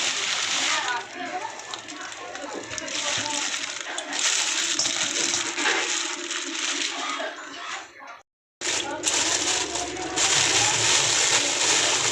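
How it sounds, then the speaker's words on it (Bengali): Fish, including tangra, tip out of a bag with their water in a home kitchen, a continuous close splashing and sloshing with a brief break, while people talk over it. "চলো মাছটা ঢেলে দেখি কি কি মাছ আছে"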